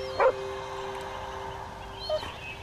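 A dog in the video game Nightmares From The Deep 3 gives a short whimpering yip, and a second faint whine follows two seconds later over a steady tonal game ambience.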